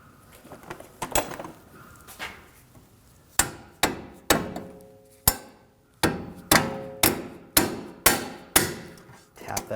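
Hammer blows tapping a rear CV axle into place on a 2007-2013 BMW 328i 3.0L inline-six, a handful of irregular taps early then a steady run of sharp, ringing metallic strikes, close and loud.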